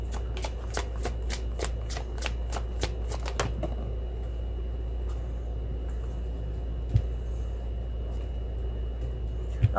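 Tarot cards riffle-shuffled in quick close repeated flutters for about three seconds, then a steady low hum with an occasional faint tap.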